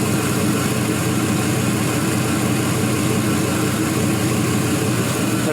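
A 4.8L LS V8 engine idling steadily at about 700 RPM, giving a constant close, even rumble with no revving and no voices.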